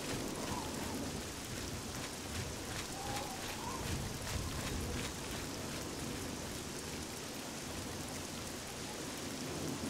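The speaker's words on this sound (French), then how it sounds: "Ah, ça va vite la pluie." Steady rain shower in the video game Oblivion, a dense even hiss of falling rain with a low rumble underneath, constant and moderately loud throughout.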